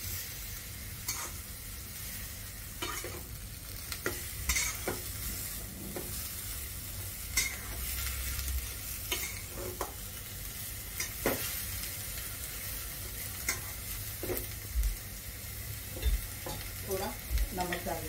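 Pav bhaji vegetables and peas get stirred in a sizzling pan, with repeated sharp scrapes and knocks of the spoon over a constant background fry; no voices.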